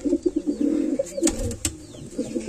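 Lal Jiriya pigeons coo nearby in soft repeated rolling phrases, with a few wing flutters and light knocks around them, and no talk.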